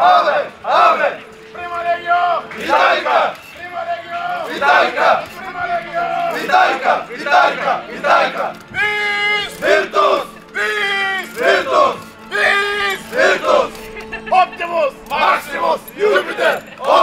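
Roman soldier reenactors at a historical reenactment in Hisarya shout greetings to the crowd in loud rhythmic unison. The chanted calls come in repeated bursts with short gaps, close and forceful, with crowd noise beneath.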